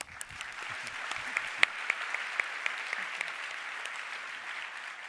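Audience applause at a Cisco corporate session, a steady moderate patter of many hands with a few louder distinct claps standing out, heard from a little distance in a large room.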